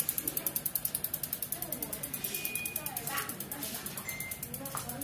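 The freewheel of a Merida mountain bike with 27 speeds and 26-inch wheels spins, giving a steady rapid ratchet clicking that starts crisp and slows slightly. It is close and fairly quiet, and a voice talks faintly underneath.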